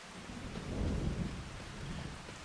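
Steady rain patters while a low thunder rumble swells and fades in the Farming Simulator video game, heard alone with no talk.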